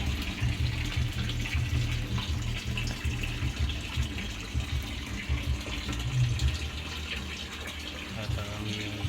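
Water pours steadily into a fish tank holding red tilapia and newborn fry, a continuous splashing gush with a voice talking over it.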